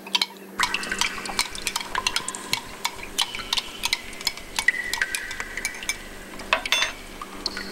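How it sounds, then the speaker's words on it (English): A spoon stirs a drink inside a water bottle, a quick run of sharp clinking and tapping strikes that stays close and fairly loud for several seconds, with no talk. "Gotta get it stirred, make sure it's good."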